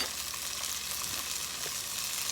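Garlic sizzles in a hot frying pan as it is cooked for a lemon garlic pasta, a steady close crackle and hiss that runs evenly throughout without talk.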